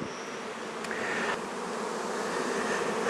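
Honey bees swarm in a dense, steady buzz while nucleus colonies are moved into six-frame boxes, a loud, close, continuous drone with a faint knock partway through.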